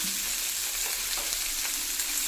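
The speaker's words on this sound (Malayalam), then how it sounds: "നല്ലോണം വാടട്ടെ അപ്പോൾ നമുക്കൊന്ന് നല്ലോണം ഒന്ന് വഴറ്റി കൊടുക്കാം" Sautéing in a frying pan while cooking a Manthal (sole) fish dish: a steady, close hiss of sizzling runs throughout with a few faint stirring scrapes, and no voices.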